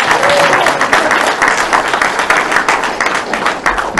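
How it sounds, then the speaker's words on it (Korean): An audience at a lecture applauds, dense clapping that stays loud and steady throughout with a murmur of voices mixed in. "왜 박수?"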